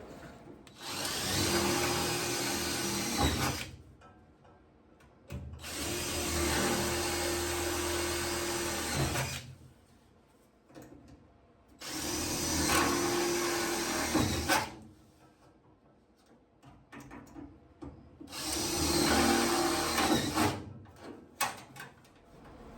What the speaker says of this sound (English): we're going to drill a few more holes on this side